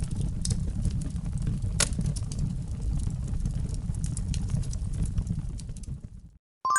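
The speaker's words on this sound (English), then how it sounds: "Fire crackling." A fire crackles and pops continuously at close range, with a low rumbling bed and scattered sharp snaps throughout, ending in a brief silence.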